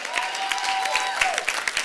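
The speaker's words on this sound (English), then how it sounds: "Give him a big hand clap." Seminar audience breaking into applause, a moderate scattered clapping with sharp individual claps and a faint voice mixed in.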